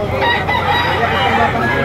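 Chickens at a livestock auction market in Lipa City cluck and crow amid a dense, steady crowd of fowl noise, with faint voices mixed underneath throughout.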